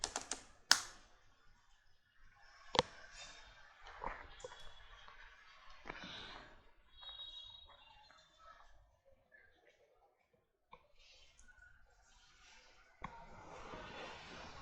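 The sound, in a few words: typing the apt update command on a computer keyboard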